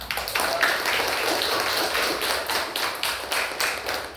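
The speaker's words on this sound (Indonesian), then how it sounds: "Tepuk tangan semua." A classroom of students claps hands together, a dense steady round of applause with rhythmic bursts that lasts throughout, close and fairly loud.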